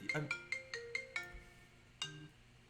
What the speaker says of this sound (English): I'll be right back. I got a phone call to answer.